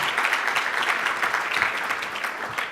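An audience at an awards dinner applauds, with steady, dense clapping from many hands held at an even level throughout.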